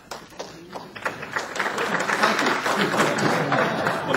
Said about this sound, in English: Applause just for standing up